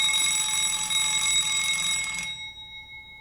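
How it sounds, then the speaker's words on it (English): Electronic alarm sounding in a classroom or lecture setting, a loud, steady, high multi-tone ringing that holds for about two seconds and then cuts off, leaving a faint fading tail. "Ali, can you just switch that alarm off at the moment, disable it"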